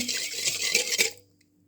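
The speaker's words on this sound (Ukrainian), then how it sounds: "Перемішую вінчиком." A wire whisk stirring flour into milk in a bowl for bun dough, quick rattling strokes against the bowl for about a second before stopping, close and fairly loud.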